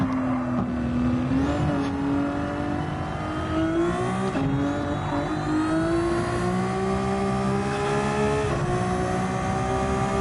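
A race car engine in Gran Turismo 7 revs hard through the gears, its loud climbing whine rising, dropping at each shift and climbing again over ten seconds with no talk.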